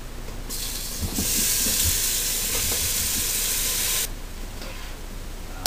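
Ingredients frying in a little vegetable oil in a pot over medium-high heat: a sudden loud broad sizzle rising after a second, hissing steadily for about three seconds before dropping back to a quieter crackle, close and without talk.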